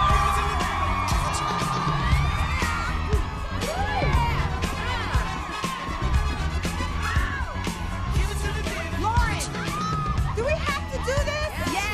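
A wild crowd at a strip club cheers, whoops and yells continuously, dense and loud, with voices shouting over one another throughout.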